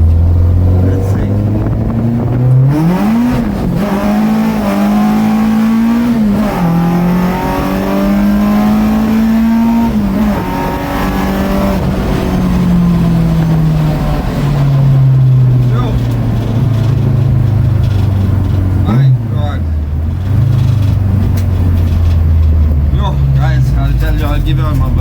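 VW MK1 with a race-spec ABF engine on Jenvey individual throttle bodies, revving hard on a road drive, loud rising and falling pitch sweeps through gear changes from inside the car, with people talking over it.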